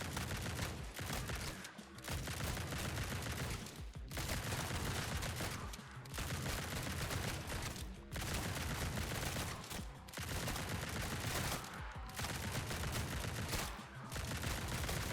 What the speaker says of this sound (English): This fast-firing shotgun